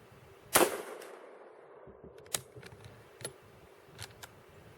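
A single sharp gunshot firing a cast-bullet test load cracks close by, outdoors in snow, and then decays. Lighter mechanical clicks of the firearm's action follow.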